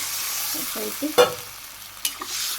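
Green chilies sautéed and stirred in a pan for a Bangladeshi home-cooked meal, with a faint steady sizzle, a few soft scraping stirs and one sharp utensil clink near the middle.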